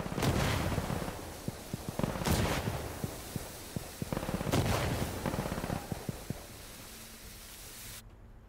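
Heavy mortar strike explosions from the video game Insurgency Sandstorm boom repeatedly, with several large rumbling blasts and scattered sharp cracks of gunfire in between, loud and dense throughout before cutting off near the end.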